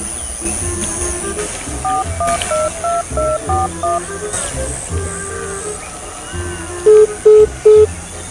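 A quick run of telephone keypad tones at varying pitches, followed by three louder, evenly spaced beeps near the end, over a faint background hum.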